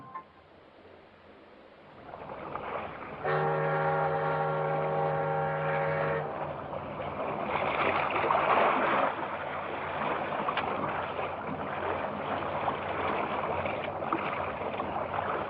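A salvage boat moves over water with a steady engine drone and wash, and a loud horn-like tone sounds for a few seconds partway through.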